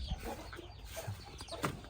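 Chicks and chickens from a Thai game fowl cross of Boonmee and Daeng lines cluck and peep in a coop, with a busy, steady run of soft calls throughout and no speech.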